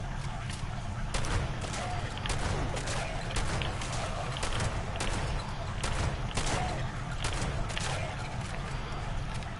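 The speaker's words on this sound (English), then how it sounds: "I had to continuously fire off rounds" Repeated shotgun blasts from an eight-round weapon fired at ghouls in Fallout 76, about a dozen sharp bursts at uneven intervals, fairly loud over a steady low rumble of game ambience.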